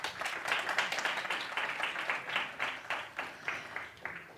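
Audience applause at a corporate digital talent summit as a speaker from a training department is welcomed on stage; moderate, steady clapping from a mid-sized crowd, somewhat distant and fairly quiet.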